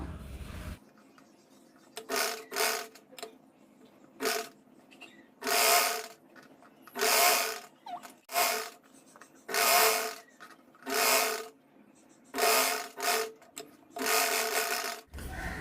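A sewing machine top-stitches a sleeve while short sleeves are converted to long. About a dozen short, close bursts of stitching are separated by quiet pauses.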